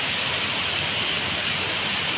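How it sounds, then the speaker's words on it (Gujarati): Heavy monsoon downpour on a half-flooded street near Minibazar and Mangadh Chowk in Surat, a dense, steady roar of rain with no pauses or voices. "જોઈ જુઓ આ જગ્યાએ ફૂલ વરસાદ ચાલુ છે."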